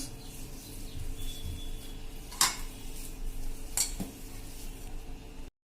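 A spoon mixes mashed potato into batter in a metal bowl, making soft stirring and scraping with a few sharp clinks against the side, close and fairly quiet, with no talking.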